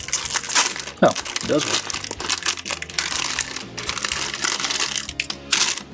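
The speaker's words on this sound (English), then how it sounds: "I've seen some people open these like a bag of chips, just like take this and pull this apart." A plastic bag from a 1/144 HG Bandai Gundam model kit being pulled apart, with loud close crinkling and crackling bursts that come and go while a person talks.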